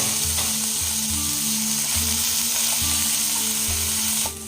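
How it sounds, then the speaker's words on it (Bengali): Chopped carrots, beans and green chillies sizzle steadily in a pan of oil with leftover rice-based chicken rice cooking underway, a constant close frying hiss with soft rhythmic stirring pulses beneath. "গাজর, বিনস, কাঁচা লঙ্কা সব ভাজাভাজি হয়ে গেছে"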